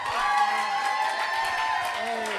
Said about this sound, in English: Please give a nice round of applause for Justin Hall.